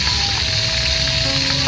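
Catfish frying in hot oil in a home kitchen gives a loud, continuous sizzle with a steady hiss and crackle and no pauses. A faint tonal whine runs beneath it.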